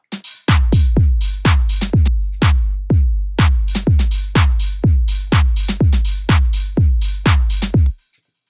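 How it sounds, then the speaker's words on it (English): A punchy four-on-the-floor beat with booming kicks and a layered clap cracking in between, repeating steadily for several bars before cutting off. "And then I layered the clap."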